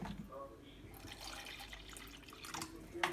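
Water poured from a container to dilute concentrated sugarcane syrup, a quiet trickling and splashing with a few drips, faint and close, ending in a small clink.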